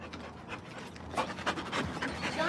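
A dog named Junior pants steadily at close range, a quick rhythmic run of breathy huffs that grows a little louder toward the end, with no talking over it.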